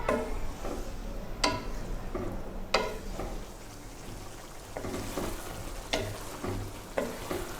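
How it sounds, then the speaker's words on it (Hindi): Chickpeas stir-fried in a masala base, with a steady close-up crackle broken by a few sharp spatula scrapes and knocks against the pan; no voices. "इसमें बस अब आपने इसको 5 से 8 मिनट तक भून लेना है।"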